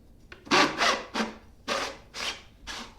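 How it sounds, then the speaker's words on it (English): Rhythmic rubbing and scraping strokes, about six in quick succession, as the small arms of a Griffin Grip are slid into place on a pottery wheel to hold a tumbler for trimming. Close and fairly clear, with no talking. "this is a griffin grip, so I'm gonna attach the little arms"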